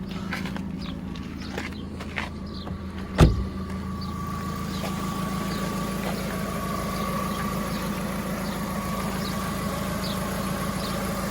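A Volkswagen Golf 1.6 MPI idles steadily with a continuous low rumble and a faint hissing puff from an exhaust joint, with one sharp knock partway through and light clicks in the background.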